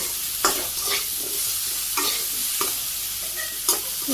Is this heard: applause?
no